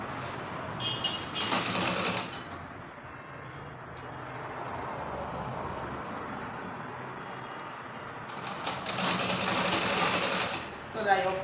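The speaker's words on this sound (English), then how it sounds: "I'm going to top stitch it now to make it firm." A sewing machine top stitches a trouser pocket piece in two fast whirring runs, one short and one longer, several seconds apart. A person speaks between the runs.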